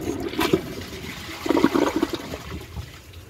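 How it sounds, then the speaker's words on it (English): A 2015 Glacier Bay 1-gallon high-efficiency toilet flushes with its tank lid off, a short rushing surge of water followed by gurgling and a trickling refill, heard close and alone. "let's give it a flush and see how it does on tests."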